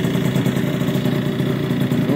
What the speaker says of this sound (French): je sais pas si vous m'entendez bien avec le bruit du moteur et puis de la carburation là.